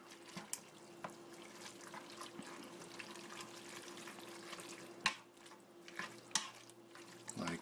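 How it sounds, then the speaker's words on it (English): A pot of chili with vegetables is stirred, soft wet scraping punctuated by a few sharp clicks and knocks of the utensil against the pot, quiet and close, without speech. "Give it a stir."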